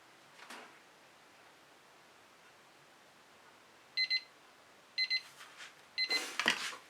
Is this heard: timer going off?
yes